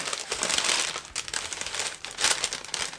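Crinkly plastic packaging around a handmade goth jewellery parcel being unwrapped, with continuous close rustling and crackling that swells and eases in waves, no voices present.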